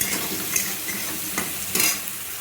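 Dal sizzles and crackles in hot oil in the pan where pointed gourd was just fried, a close, steady frying hiss with a couple of brief stirring scrapes.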